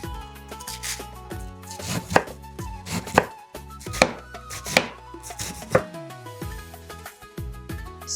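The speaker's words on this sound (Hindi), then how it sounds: "कैबेज के हम दो हिस्से कर लेंगे और इसमें जो हार्ड पार्ट है ना वो निकाल लेना है" A knife cutting a cabbage in half and cutting out its hard core, with loud, sharp thuds on a board roughly once a second over tonal background music.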